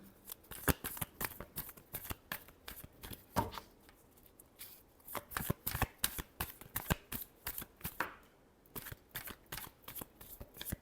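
Tarot cards are shuffled by hand in repeated quick riffling bursts, close and crisp, with short pauses between rounds and no voice over them.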